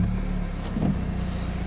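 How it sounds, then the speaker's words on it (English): A 2012 BMW Z4 sDrive28i M Sport roadster engine running, a steady low rumble close by with a slight rise in pitch midway, no voices. "Just start the engine up."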